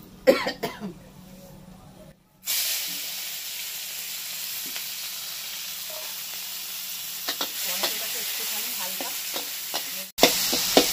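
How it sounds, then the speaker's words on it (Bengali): After a brief near-silence, a loud, steady sizzle of chopped tomatoes frying in a pan begins, with occasional scraping and stirring clicks throughout. "হালকা ভেজে নিয়ে এর মধ্যে দিয়ে দিচ্ছি টমেটো কুচি"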